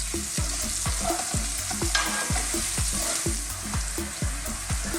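Broccoli fries in a pan with a bright, constant sizzle, while a spoon stirs in a steady rhythm, each stroke giving a low thump and scrape roughly every half second, close up.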